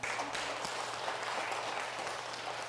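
An audience at a Buddhist lecture bursts into sustained applause, a dense and fairly loud wash of clapping that holds steady throughout.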